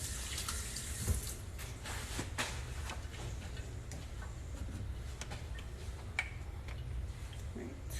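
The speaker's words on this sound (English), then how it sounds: "Let me rinse my hand off." Water running from a kitchen tap while a hand is rinsed under it, a steady close splashing hiss with small drips and clicks throughout, no talking.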